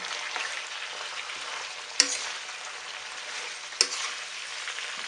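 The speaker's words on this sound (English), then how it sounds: "You just want to stir it for another 1 minute because the vegetables and the prawns are all pretty much cooked already." Pinakbet vegetables and prawns are stirred in a pan, giving a steady, close frying sizzle with two sharp clinks of the utensil against the pan.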